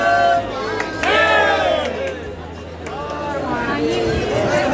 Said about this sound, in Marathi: सध्या महादेवाचं जय जयकार करत निघालेले तुम्ही पाहू शकता